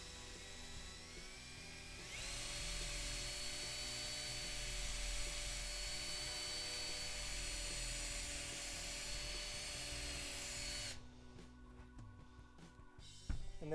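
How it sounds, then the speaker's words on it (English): A power drill bores a hole into wood, its motor starting after a quiet moment and spinning up into a steady high whine. It holds at speed for about nine seconds, then cuts off with a few small clunks. "slowly squeeze the trigger until the drill bit starts to grab"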